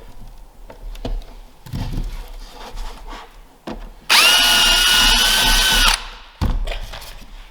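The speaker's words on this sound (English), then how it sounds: "And now I switch over to a flathead screw, because that'll fit in that little recess." A power drill drives a flathead screw into a birch drawer, giving one loud, steady whirring burst of about two seconds, with scattered knocks and handling taps from the workpiece before and after.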